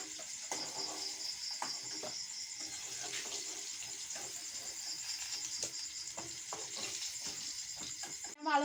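Potatoes fry in a pan with turmeric and salt, giving a steady close sizzle with occasional stirring scrapes and clicks throughout, no talking.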